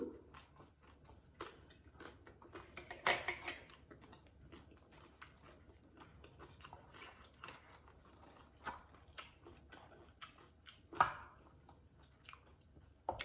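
Quiet, irregular chewing with soft wet clicks and crunches spread over several seconds, occasionally sharper bites standing out.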